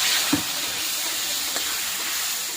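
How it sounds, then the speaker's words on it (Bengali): Spice paste frying with a splash of coconut milk in a pan, giving a steady soft hiss and sizzle throughout with a couple of faint stirring taps, no voices. "ওই নারকেলের দুধটাই একটু দিয়ে মশলাটা কষিয়ে নেব"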